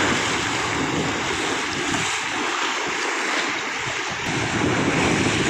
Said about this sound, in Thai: ที่ชายทะเลแล้วคลื่นแรงมากนะครับ